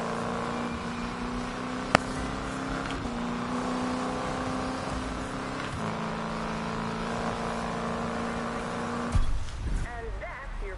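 Steady game car engine drone from a Need for Speed (2015) drag race, a continuous tonal hum with pitch steps at each gear shift, a sharp click near two seconds, and the engine note cutting out near the end as a voice speaks.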